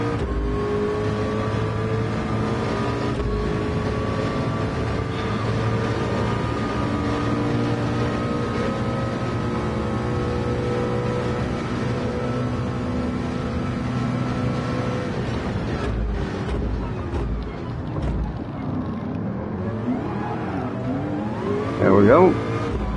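Race car engines drone steadily at Le Mans in a VR racing game, a sustained loud multi-tone engine whine with shifting pitch and a nearby rival car, while someone talks over it.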